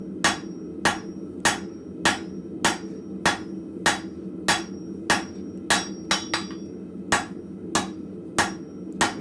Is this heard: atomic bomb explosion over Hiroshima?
no